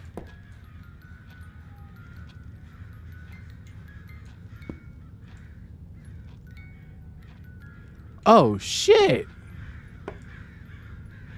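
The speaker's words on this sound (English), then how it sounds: "It's a damn bird." A crow in the video game Summer of '58 gives a short burst of loud, harsh caws near the end. They rise abruptly over a quiet, low ambient hum, and a person speaks briefly.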